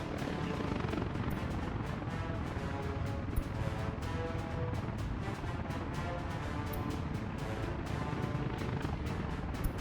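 Helicopter in the city-building game Workers and Resources: Soviet Republic, a steady loud rotor drone with a fast chopping flutter running unbroken throughout, alone with no voices.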